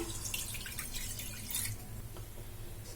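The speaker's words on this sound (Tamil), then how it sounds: "இதில் வந்து ஒரு கப் அளவுக்கு தண்ணி எடுத்திருக்கேன் இதை வந்து நம்ம இதில் ஊற்றிடலாம்" A cup of water is poured into a kadai on the stove, heard as soft dripping and splashing over a steady kitchen hum, with no voices.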